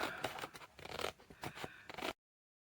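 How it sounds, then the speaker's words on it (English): Small craft scissors snipping through an index card, a run of close, crisp cuts and scrapes in quick irregular succession for about two seconds, then silence. "then we get the fussy cutty scissors"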